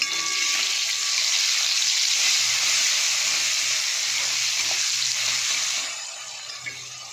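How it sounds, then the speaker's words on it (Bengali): Steady loud sizzle of onion frying in hot oil, fading down somewhat toward the end. "কুমড়ো ভাজার তেলের মধ্যে পেঁয়াজটা দিয়ে দিয়েছি।"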